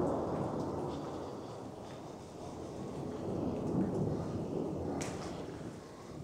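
Rain falls outside an old hunting lodge while thunder rolls in a low, muffled swell, heard from indoors as a steady wash with a deeper rumble rising and fading.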